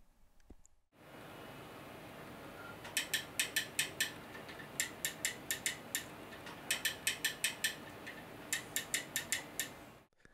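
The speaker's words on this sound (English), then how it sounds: "this is the new Derek Spear design sequential shifter. This one is adjustable and it is much quieter than the other two" A Derek Spear Design adjustable sequential shifter for sim racing clicks through gears in four quick bursts of sharp, close mechanical ticks, each burst holding several clicks, against quiet background hiss.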